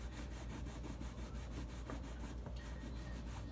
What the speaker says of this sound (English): then I'll scrub.